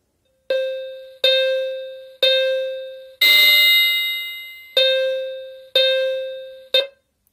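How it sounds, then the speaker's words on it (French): A Tuya Wi-Fi smart siren plays an alarm ringtone: a series of loud, bright electronic tones, each repeated with a decaying ring at a steady rhythm, broken midway by one longer, harsher buzzing burst, with no talk. "Donc on a à peu près le même type d'alarme qu'on avait avec la première."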